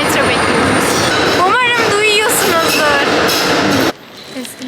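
A metro train rumbles loudly into a station, with squealing metallic tones as it approaches, then the noise drops off abruptly near the end.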